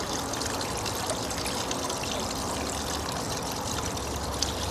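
Water runs through a Gold Genie spiral gold concentrator wheel, making a steady, close rushing and splashing flow like a continuous pour that holds at an even level with no voices.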